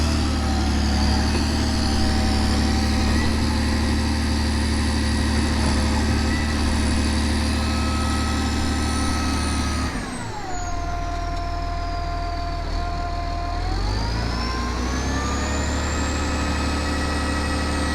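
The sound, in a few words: motor grader engine running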